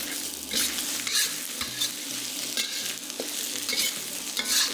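Fried tofu is tossed with salt and pepper seasoning in a pan: a steady sizzle runs throughout, broken by repeated scraping and stirring strokes, up close with no talking.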